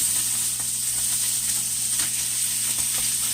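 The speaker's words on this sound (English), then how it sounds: "We're going to fry this like bacon." Strips of meat fried like bacon in a pan give off a constant loud, close sizzle with a steady hiss and faint crackles throughout, heard without any talk.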